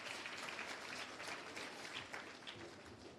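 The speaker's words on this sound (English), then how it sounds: "A hand of applause for them again." Faint, distant audience applause at a skills development centre launch, a dense even patter of many hands clapping that holds steady throughout without talk.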